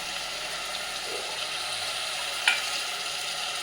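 Mutton frying in a pan while being stirred, a steady close sizzle and hiss throughout with a brief scraping clink of a spoon against the pan partway through.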